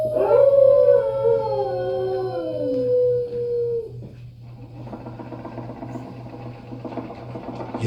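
A dog named Rover lets out a long, loud wavering howl that slides downward and fades after about four seconds, over a steady mechanical hum, followed by quieter clattering machine noise in an animatronic home scene.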